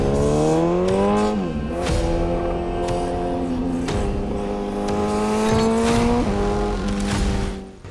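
A 2025 BMW S1000 RR sportbike with 206 horsepower rides out on a road, its engine note climbing and dropping through repeated gear changes. The bike sounds close and loud, with no talking.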